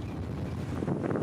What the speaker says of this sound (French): On a du mal à tenir debout à cause du vent